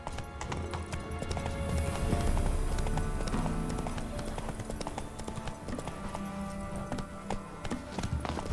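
Horse hooves gallop in a fast, steady clip-clop rhythm in the video game The Witcher 3: Wild Hunt, close and continuous with a brief whinny amid game sounds.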